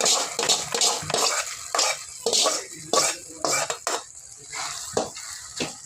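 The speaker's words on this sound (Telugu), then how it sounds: "ఇప్పుడైతే తాలింపు వేసుకుందాం" Tempering spices crackle and sizzle in hot oil in a pan, heard as loud, close bursts of spitting and popping with a few stirring clinks between them.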